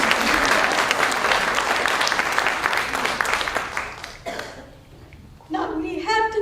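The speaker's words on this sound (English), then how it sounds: "Applause for" Conference audience applauding after an opening keynote, a loud, dense burst of clapping that gradually thins and fades out, followed by a speaker's voice resuming at the end.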